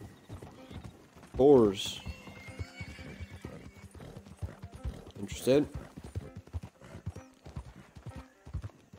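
Steady clip-clop of horse hooves while riding in a video game, a continuous rhythmic trot punctuated by two loud whinnies, with someone talking quietly over it.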